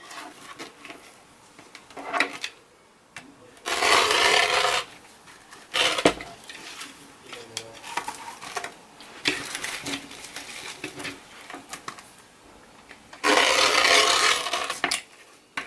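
Scissors cut through burlap deco mesh into strips, making rough, rasping snips in bursts with quieter handling between them. No voice is heard.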